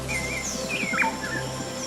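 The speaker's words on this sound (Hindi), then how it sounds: "तभी उसके कानों तक चिड़िया की चहचहाने की आवाज आती है।" A cartoon bird gives a few quick, bright chirps and trills over a steady low background hum, close and clear with no voices.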